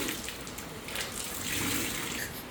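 Floodwater rushing and splashing inside a flooded house, a steady broadband watery wash that rises slightly midway, close and fairly loud with no talk over it.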